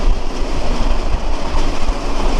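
The Burimari Express rumbles loudly along the rails from Dhaka toward Lalmonirhat, a dense, continuous roar with faint rhythmic wheel clatter and no voices.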